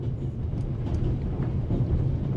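A moving train in The Raven video game: steady low rumble and rolling rail noise, continuous and fairly loud, with no break or talk over it.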